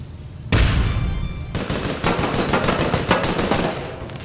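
Grenade blast followed by rapid bursts of automatic gunfire in the APB Reloaded shooter game, a loud boom opening into dense, continuous rattling shots close by.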